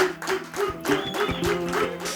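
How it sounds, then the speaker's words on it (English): Audience applause in a storytelling contest hall as the first storyteller comes on stage, a dense patter of clapping mixed with some crowd noise and music-like tones, steady and fairly loud throughout. "A round of applause, please."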